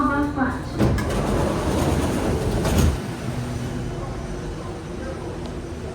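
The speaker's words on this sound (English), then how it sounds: "So there we are now on the train, this train up to Harbourfront." A Singapore metro train running toward Harbourfront rumbles and hums steadily, with a brief rise in noise partway through and a recorded voice announcement over it at the start.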